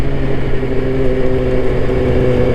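Sport motorcycle engine revving through a quick-shift gear change, a GSX-R1000R or MT-10 class bike, a loud steady droning roar with a strong hum, close up and continuous, no talking.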